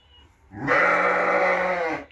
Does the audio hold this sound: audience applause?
no